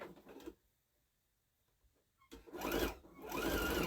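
Sewing machine stitching oversized hot pads, a short whirring burst, then a pause of near silence, then a longer, louder run of rapid mechanical stitching, close by.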